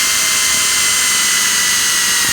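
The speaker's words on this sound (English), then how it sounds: "this uses a number 9 drill bit for a perfect fit" Drill spinning a number 9 bit through a jig's drill bushing for a pilot hole while fitting a tracker handlebar to a Triumph Speedmaster, a steady, loud high-pitched whine that holds without a break.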